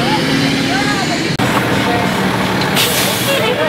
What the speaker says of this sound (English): We got the fire truck out, man.